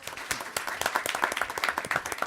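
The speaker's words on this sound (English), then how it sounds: "I want a big applause for Sanya, please." An audience at an Agile executive forum panel claps in scattered, uneven bursts, a sparse and fairly close round of applause with no talk over it.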